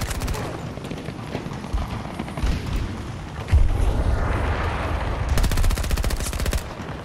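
SMG gunfire rings out in Battlefield 2042 as rapid automatic bursts, loud and close, with dense rattling stretches running almost the whole way and a heavy thump partway through.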